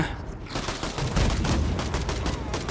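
Rapid SMG5 submachine gun fire in the zombie shooter Zelter, sustained bursts of loud automatic shots rattling continuously without speech.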